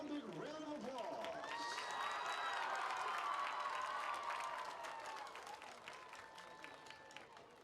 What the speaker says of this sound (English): Let's give all of our Hall of Fame inductees one big round of applause